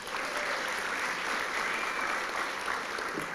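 Steady applause comes from a crowd at a service dog class graduation ceremony. The clapping is dense, even and fairly faint, and it carries on without a break and with no talk.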